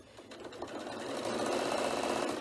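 Sewing machine with a zipper foot top stitching down the edge of a zip panel on a bag, a continuous whirring hum that speeds up and holds steady at close range.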